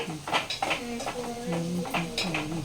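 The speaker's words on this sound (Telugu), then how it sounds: "మా అమ్మాయి కూరగాయలు కోస్తుంది" Quick knife taps and clinks against a cutting board as vegetables are chopped, while someone talks over the chopping.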